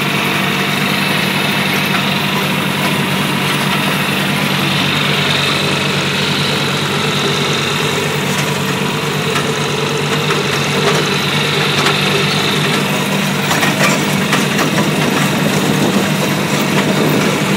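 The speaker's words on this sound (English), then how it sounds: "a John Deere 2355." A John Deere 2355 tractor engine runs at a steady, loud, continuous drone with a constant mechanical rumble during hay tedding, with no pauses or talking.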